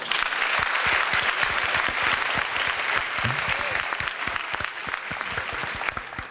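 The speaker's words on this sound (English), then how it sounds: "Let's give him a round of applause." A live audience gives dense, steady applause that continues throughout, with many hands clapping at once.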